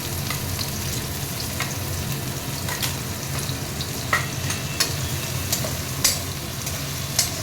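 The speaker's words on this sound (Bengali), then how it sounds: "তেলটা গরম হয়ে গেছে, এবার আমি এর মধ্যে পেঁয়াজ দিয়ে দেবো।" Finely chopped onions frying in hot oil as a spatula stirs them, a constant close hiss with sharp scraping clicks and taps scattered through it, no voices.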